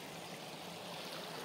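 Steady, soft rush of water flowing over a small river dam in the early morning, a continuous broadband hiss without talk.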